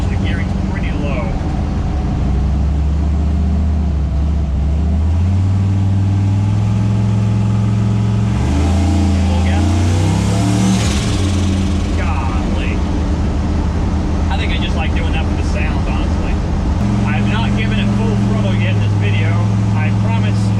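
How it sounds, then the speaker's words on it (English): Turbo LS-swapped Chevrolet C10 squarebody truck with a stock 10-bolt rear cruising at low RPM around 55 mph, a loud steady engine drone with road rumble throughout, someone talking over it. "Cruising at 1100 RPM, doing 55, just cruising."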